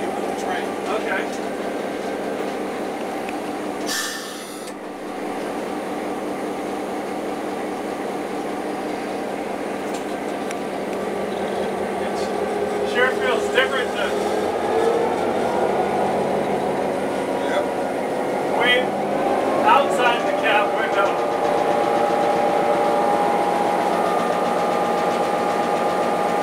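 A railroad locomotive idles while its compressor builds brake air pressure, a steady mechanical hum and rumble heard from inside the cab, with a voice talking over it and a few brief clanks.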